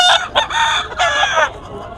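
A rooster crows loudly and close at a Bocaue gamefowl market, two drawn-out calls in quick succession with a short cluck between them.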